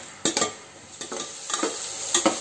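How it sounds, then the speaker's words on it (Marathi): Large tomato pieces sautéed and stirred in a pan for a prawn biryani, with a steady soft sizzle broken by several brisk scraping stirs spaced about half a second to a second apart, close and alone. "यांना देखील आपल्याला छानपैकी 2 मिनिटांसाठी परतून घ्यायचं आहे"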